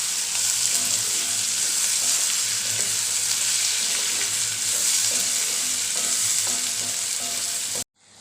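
Onions fry with salt in a pan for a Kathiyawadi onion curry, a loud steady sizzle with stirring scrapes, alone and continuous until an abrupt cut at the end.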